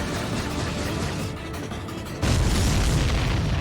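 Booming explosions from aerial combat in the video game Ace Combat 7: Skies Unknown, a loud continuous low rumble that swells sharply partway through and stays heavy to the end, with no talk.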